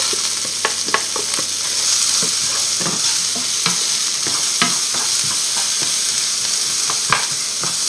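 Potatoes with garlic and onion fry in fat, giving a loud, continuous sizzle close up, broken by irregular clicks and scrapes of stirring, with no talking.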